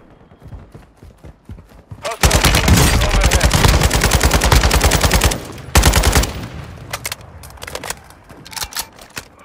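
Drake 7.62 rifle firing in Warzone 2.0 on Ashika Island: loud, rapid bursts of close gunfire, a sustained volley followed by a second short burst, then scattered quieter shots.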